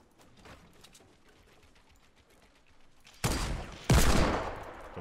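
Two sharp, loud Desert Eagle gunshots in the video game Fortnite, each ringing out after a quiet stretch of faint game ambience, the second slightly louder.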